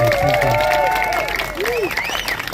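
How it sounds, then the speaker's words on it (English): An audience at a greyhound racing welfare gathering applauds the volunteers, clapping that runs under overlapping voices and background tones. "a round of applause for them, please"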